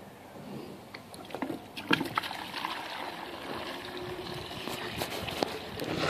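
A bucket fills with water from a garden hose for an ice bucket challenge, a continuous splashing trickle heard close up with a few scattered knocks and clatters.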